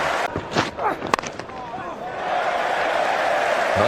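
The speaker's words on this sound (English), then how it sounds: "Big cheer goes up all around this." A cricket crowd at an England v Australia Ashes Test in 2005 roars after a boundary, a broad sustained cheer building and holding loud to the end, with a few sharp bangs and commentary voices early on.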